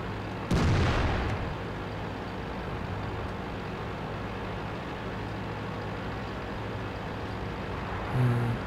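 Artillery high-explosive shells firing in World of Tanks: one loud, close boom with a crackling tail, then a steady low battle rumble and a faint second thump near the end.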